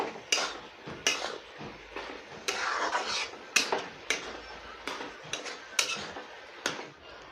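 A utensil stirs turmeric into a cooking pot of giant taro for an Assamese dish, giving about a dozen irregular metallic clinks and scrapes close by, with quiet gaps between them.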